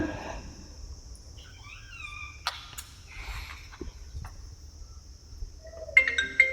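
A touchscreen mobile phone rings with a short melodic electronic tune of rising and falling tones, then chimes again near the end, heard over a quiet indoor background.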